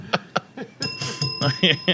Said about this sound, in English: Ring the bell for the bitch to pour my beer